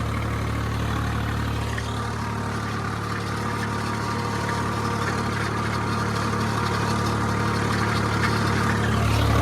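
A tractor engine holds a steady, loud, continuous drone at 1400 RPM in two-wheel drive during multicrop threshing, close and unbroken throughout, swelling slightly at the end.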